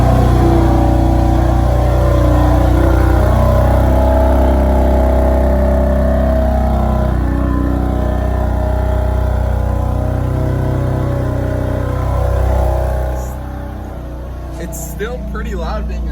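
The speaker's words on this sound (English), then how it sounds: "let's listen to this cold start on my stock exhaust" A stock-exhaust BMW M4 fires up from cold and settles into a loud, steady high idle that drones on for most of the stretch, then drops lower near the end with a few faint clicks.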